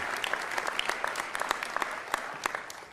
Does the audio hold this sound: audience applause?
yes